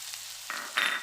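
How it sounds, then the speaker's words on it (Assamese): Panch phoron and dried red chillies fry in mustard oil in a kadai for a Tengamora pickle, producing two short, close sizzling bursts over a quiet, steady background. "এতিয়া এটা কেৰাহীত মিঠাতেল দি ল'লোঁ, তাতে পাঁচফোৰণ আৰু জলকীয়াখিনি দিলোঁ"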